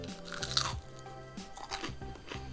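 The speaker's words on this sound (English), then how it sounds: "let's try one and see how crunchy it is. I know it's gonna be crunchy, but I want you to hear the crunch" Close crunches from biting into an air-fried frozen mozzarella stick, a few sharp crisp bites followed by chewing, loud and near with no talk.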